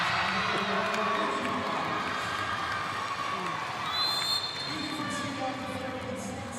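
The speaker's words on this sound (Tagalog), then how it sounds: "the crowd screaming here para sa side ng UP Fighting Maroons" Spectators at a University of the Philippines versus Far Eastern University volleyball match roar and scream for the UP Fighting Maroons after they win the second set. A continuous crowd din sits under a commentator's voice.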